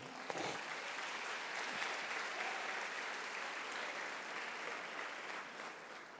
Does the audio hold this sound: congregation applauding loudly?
yes